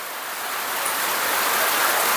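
Heavy rain pours down in a dense, even roar that swells slightly and holds steady throughout, close and without any voices.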